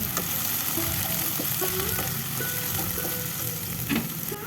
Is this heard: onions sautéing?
yes